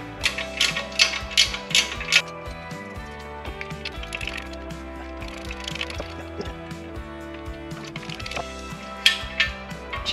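A ratchet wrench loosens the motor lift plate bolts on a Foxbody restomod under the hood, giving quick bursts of close metallic clicking at the start and again near the end over a steady tonal background.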